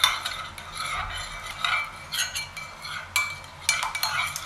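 Lemon juice being stirred into a freezer jam mixture of raspberries, peaches and sugar, with a spoon scraping and clinking against the bowl in quick, uneven strokes, close and fairly quiet.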